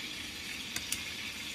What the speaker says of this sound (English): Now we'll talk while the hamburgers are frying.